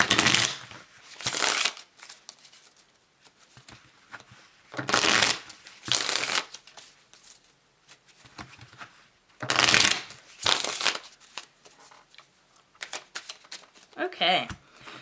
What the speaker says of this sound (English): shuffle this way 3 times